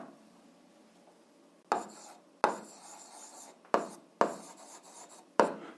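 Chalk or pen strokes on a board write out an algebra solution: five short scratching bursts, each a sharp attack fading into a rasp, close and clear after a quiet start.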